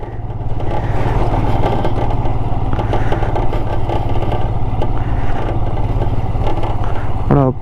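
A motorcycle engine runs steadily and loud while being ridden through the Shyok River in Ladakh, with continuous rumble and clatter from start to finish.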